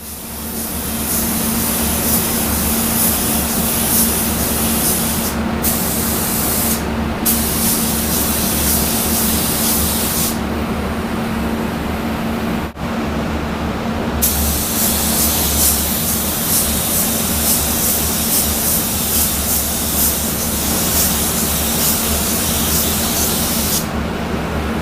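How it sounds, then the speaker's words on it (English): A paint spray gun applies a normal coat of colour along the edge of a car fender, giving a loud, continuous hiss with a few brief pauses and no talking. "we're just going to paint this edge on a normal coat like you would paint anything"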